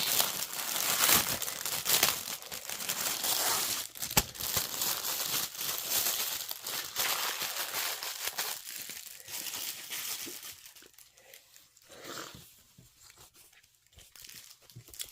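A parcel package being opened, with loud, close crinkling, crushing and tearing of wrapping that fades into quieter rustles toward the end.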